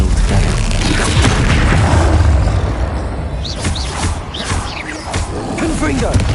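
A troll roars in the Hogwarts Legacy video game, a loud deep bellowing growl with rumbling booms, set among game sound effects and voices.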